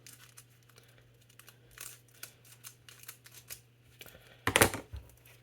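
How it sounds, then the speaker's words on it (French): Children's scissors snip and crinkle through Pokémon card packaging from an Ultra-Premium Charizard collection, with scattered light cuts and rustles and one louder, sharp crinkling cut near the end, close up. "les ciseaux pour enfants, en vrai, ça fait tout"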